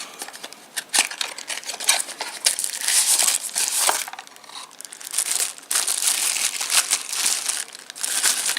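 Plastic packaging around an Apple Watch charging dock crinkles and crackles steadily for several seconds as it is opened, close and fairly loud, with no talking.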